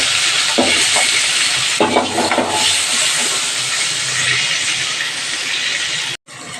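Fish oil sizzles and hisses loudly in a hot pan while pumpkin greens are being cooked, a steady broad crackle holding throughout with a few brief clattering bumps and a short drop near the end.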